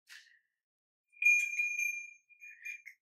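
A hand-tuned Indian bell, an ancient craft traditionally hung on farm livestock, rings out alone in quiet: a brief tap, a pause, then a sustained bright chime with shimmering overtones that fades before two softer strikes.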